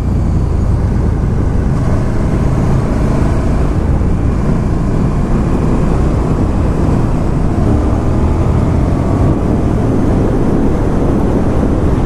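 A 2019 KTM 1290 Super Duke R motorcycle engine rumbles steadily and loudly through a stock exhaust, a continuous deep drone with no pauses.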